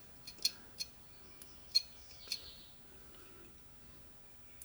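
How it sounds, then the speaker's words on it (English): A knife makes a stop cut into a basswood carving, giving a handful of faint, crisp snicks spaced irregularly over a quiet room. "I'm just going to put a little stop cut right there"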